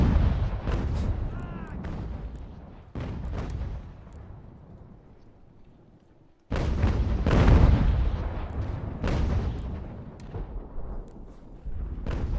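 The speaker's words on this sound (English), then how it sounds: "Our pros are getting peppered by that mortar" Mortar and artillery fire in Ultimate General: American Revolution, a series of loud booming blasts with sharp onsets and rumbling decays, a brief lull midway before a dense new burst of explosions.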